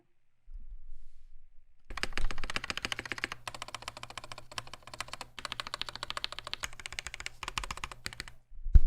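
Rapid mechanical keystrokes on a Monstargear K80 keyboard build with the plate seated wrong, a dense run of clicks close up after a brief pause, with a few heavier thocks.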